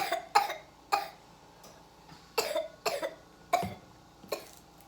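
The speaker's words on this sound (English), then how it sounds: "Just cough, cough, cough." A young child coughs in a series of about eight short, sharp bursts, spaced irregularly with quiet gaps, close to the microphone in a quiet indoor room.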